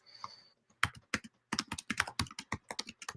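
Fingers tap on a computer keyboard in a quiet room, with a short burst of irregular keystrokes after a brief pause, the clicks close and crisp.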